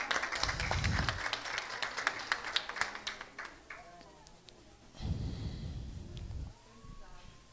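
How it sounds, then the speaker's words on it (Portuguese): Audience applause at a closing ceremony for a council training course in Bahia, a steady crowd clapping that swells in two bursts, fairly distant and mixed with room noise. "Bora aplaudir, gente"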